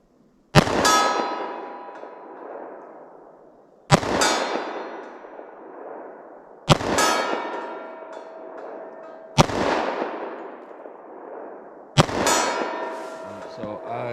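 Five loud .45 ACP+P pistol shots strike a steel target at 40 yards, each a sharp crack followed by a ringing metallic clang that decays over a couple of seconds, spaced roughly every two to three seconds with no talking.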